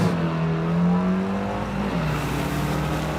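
A VW car with a brand new engine running at a Santa Pod Raceway VW festival, producing a steady, loud droning hum that sags and recovers slightly in pitch as it warms up, with no voices.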